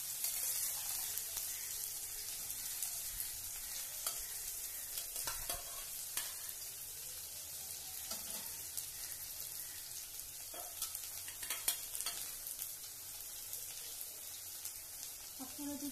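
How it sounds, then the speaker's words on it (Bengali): Chopped onion and split green chillies frying in a pan for an egg curry, a soft continuous sizzle with occasional scraping stirs, faint and close, steady throughout. "এবার আমি দিয়ে দেব কুচিয়ে রাখা পেঁয়াজ আর কাঁচা লঙ্কা চেরা।"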